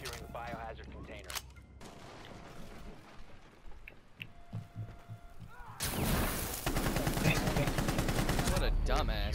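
Gunfire in Rainbow Six Siege gameplay, with scattered shots and bursts early on, then sustained loud automatic fire dominating the later half, mixed with game sounds and a voice talking over the action.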